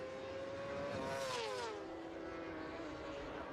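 British Superbike racing motorcycles at Donington Park, a loud engine note climbing and shifting in pitch as a bike passes, over continuous crowd and track noise.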